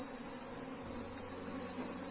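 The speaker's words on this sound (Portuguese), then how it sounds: "Isso aqui irrita bastante as abelhas." Honey bees buzz steadily around a hive box whose sides have been rubbed with onion, a dense, continuous insect drone with a high whine, close and unbroken throughout.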